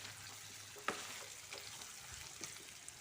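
Potato pieces and pork fry in a pan with a faint, steady sizzle and crackle, broken by a couple of soft clinks and stirring scrapes.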